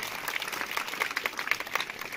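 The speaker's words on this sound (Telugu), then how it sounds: "సో అందరికీ ఒకసారి మరొకసారి వారికి చప్పట్లు కొట్టాల్సింది కొడుతుంది." Audience applause at a Vasavi Club event in Kodangal, Vikarabad, India: a steady wash of many hands clapping at moderate loudness, fairly close, continuing without a break and with no talk over it.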